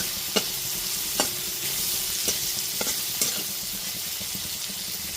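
Tomato and spices frying in a pan for arhar dal, a steady close sizzle with a few soft stirring knocks of a spatula, with no talk.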